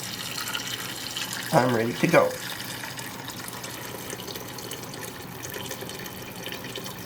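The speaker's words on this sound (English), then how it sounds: "it's actually hot water out of the kettle from when I made tea" Hot water from a kettle poured over chicken in a pot for stock, a continuous close watery rush under a short spoken phrase, with a steady kitchen background throughout.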